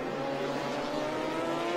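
Porsche 911 Cup race cars sweep through turn 10 at a track race, a steady engine drone holding a sustained note, moderately distant and continuous for a couple of seconds.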